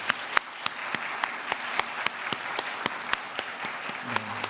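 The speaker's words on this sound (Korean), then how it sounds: "이렇게 큰 박수 해주시기 바랍니다." Applause from a church congregation during a Sunday service welcoming a new pastor, a soft, even patter of clapping at a distance with a few sharper individual claps standing out, and a voice starting up at the end.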